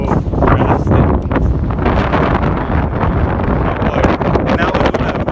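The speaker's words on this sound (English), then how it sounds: "I don't know if it's too windy to hear" Strong gusting wind buffets the microphone in a constant loud roar with rustling bursts, masking everything else.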